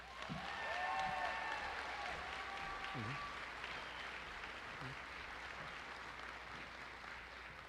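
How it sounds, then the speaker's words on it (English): A graduation audience claps for a student, a broad wash of applause that swells early then fades gradually, with a voice speaking over the clapping. "Please give a round of applause for Christine Campos."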